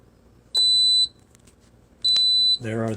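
A PowerXL Grind & Go single-serve coffee maker signals a finished brew with two clear, high electronic beeps about a second and a half apart, each lasting half a second, over quiet room tone before a voice starts speaking.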